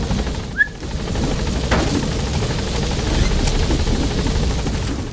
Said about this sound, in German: Na dann ab in den Hubschrauber.